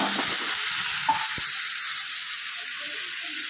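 Mint, curry leaves and coriander fry in hot oil with a steady, close hiss and crackle, broken once by a single small utensil tap.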